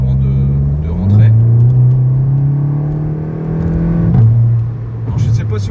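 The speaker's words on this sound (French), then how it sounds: "il y a une petite déflagration au passage de rapport" Inside an ethanol-fuelled Volkswagen Golf GTI, the engine accelerates with rising drone and two gear changes, the second bringing a small exhaust pop, loud and close throughout.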